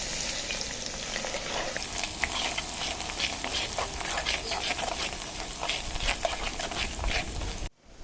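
Crushed garlic and fenugreek fry in hot oil with a dense, loud, continuous crackling sizzle close up, which cuts off abruptly near the end.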